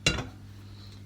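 A non-stick pot lands on a stovetop set to low heat, one short close metallic clank that fades quickly into quiet.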